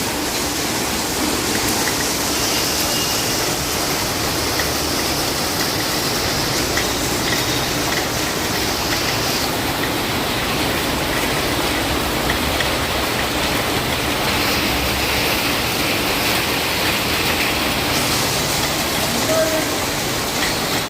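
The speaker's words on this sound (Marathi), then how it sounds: "पुण्यामध्ये एवढा मुसळधार पाऊस आहे की हाय अलर्ट केलंय" Heavy monsoon rain pours down in Pune with floodwater flowing, making a dense, steady, loud hiss that holds unbroken for the whole stretch.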